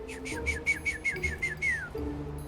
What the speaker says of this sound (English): I do that whistle every time so she gets to know part of my voice